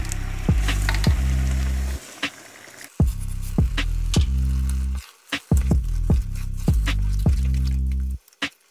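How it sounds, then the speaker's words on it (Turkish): A wooden spoon stirs thick, boiling quince jam cooked with sugar, cloves and cinnamon, bringing steady loud bubbling and sizzling broken by short gaps and repeated sharp knocks of the spoon against the pot. "Tahta kaşıkla arada bir karıştıralım."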